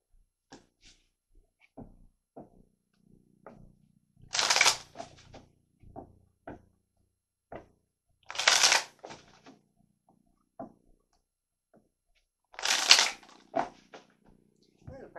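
Tarot cards are shuffled and drawn in three bursts of riffling and flicking, close and fairly loud, separated by quieter taps and soft handling noise.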